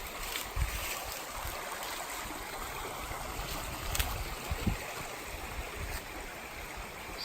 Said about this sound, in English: Here's a closer look at our stream that we're staying at tonight.